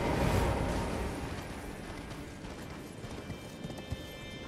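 Horse hooves clip-clop steadily beneath a loud, dense wash of noise, with a sharper thud near the end, in the video game Elden Ring.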